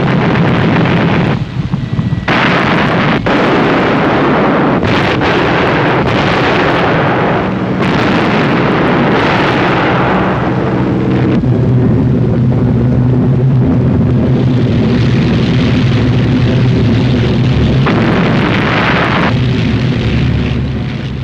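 Anti-aircraft guns on the battleship Tirpitz fire as bombs explode during an air attack, with loud, repeated blasts and booming bursts layered over rushing wind noise for the whole stretch.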